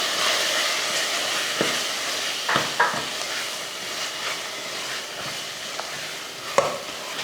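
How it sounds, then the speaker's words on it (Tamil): Garam masala and coriander powder being stirred in a frying pan while cooking, giving a steady soft sizzle with a few louder scraping knocks of the spoon. "கரம் மசாலா நல்லா கலந்து விட்டுருவோம்"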